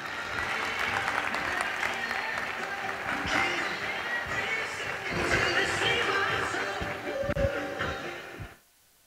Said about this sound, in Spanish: Fuerte aplauso para él.